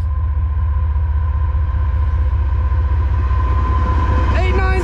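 A CSX freight train hauling Tropicana orange juice cars rumbles past in Edison, New Jersey, a loud continuous roar with a steady low drone, and a brief higher squeal near the end.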